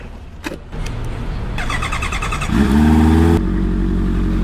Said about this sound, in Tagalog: Susubukan natin i-park yung big bike natin tsaka slot kung pwede ba.